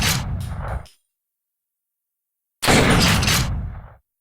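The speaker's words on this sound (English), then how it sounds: "Since the shotgun is the most used weapon in the game, I started creating a convincing sound for it." Designed video game shotgun sound effect layering a big pistol shot and an equalized cannon blast: two heavy, punchy blasts separated by silence, each with a short tail, no speech.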